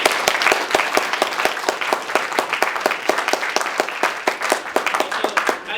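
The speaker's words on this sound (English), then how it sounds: "can we please give Stained Glass Studios a round of applause for their work" A presentation audience gives dense, crisp applause for a student game studio's vertical slice showcase, a steady close patter of many hands with no talking over it.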